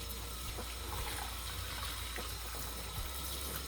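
Lukewarm water misted from a handheld sprayer onto Hoya plant leaves at a sink, a steady close hiss of spray running continuously with faint splashing and no talking.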